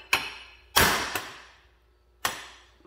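Hammer blows on a Laser Tools impact force screw driving against a hub, three sharp metallic strikes with ringing decay plus a smaller rebound tap, close and clear with no talking.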